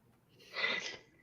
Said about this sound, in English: I'm like hilariously having a sneezing fit